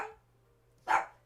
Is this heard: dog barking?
yes